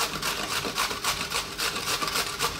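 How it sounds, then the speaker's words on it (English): Peeled cucumbers are rubbed against a kitchen grater in quick, rhythmic strokes, each a close, raspy scrape repeating steadily, with no voices. "We're just going to grate them off."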